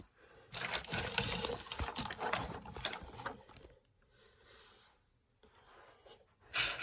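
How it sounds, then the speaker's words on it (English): A Dillon 650 progressive reloading press loading 9mm cartridges clatters and clicks through a run of mechanical strokes, goes quiet for a few seconds, then starts up again briefly near the end. "I'm going to set the camera up on this side so you can see how the machine operates over here."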